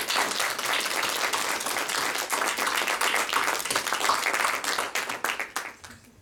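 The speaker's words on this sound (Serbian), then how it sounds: "molim jedan aplauz za profesora Dravoslava" Audience applause for a professor, a broad, sustained burst of many hands clapping that stays full for several seconds before thinning into scattered claps and fading out near the end.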